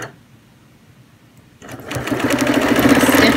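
A quilting sewing machine stitches an all-over clamshell design, starting after a quiet moment and building into a steady, close, fast mechanical whir that grows louder and rattles continuously to the end.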